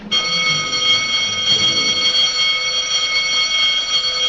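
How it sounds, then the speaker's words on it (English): An electric bell rings continuously at a loud, steady level, a harsh metallic clanging with bright ringing overtones, alone without voices. "Who's ringing that bell? Stop that noise!"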